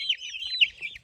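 Dakan breed chickens clucking nearby, a short burst of thin, high chirping clucks with no talking.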